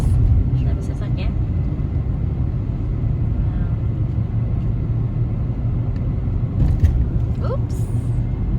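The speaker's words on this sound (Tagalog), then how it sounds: "Daming cars. Daming sasakyan." Constant road traffic rumbles near Golden Ears Provincial Park in Maple Ridge, a dense, steady low roar of many cars with slight swells as vehicles go by.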